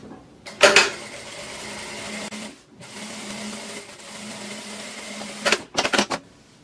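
A sewing machine stitches a seam on a fabric wallet in steady, even runs, with a short burst, a pause, a longer run and a few quick stops and starts near the end.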